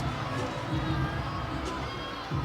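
A gymnastics arena crowd at Kentucky versus LSU chants in rhythmic unison for a perfect 10, a dense roar of voices with repeated pulses.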